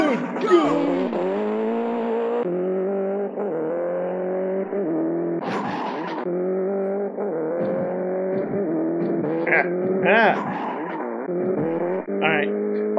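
Racing car engine in an arcade racing video game, a steady droning whine that rises and shifts pitch as it accelerates, with brief tire-squeal and effect bursts layered over the continuous game audio.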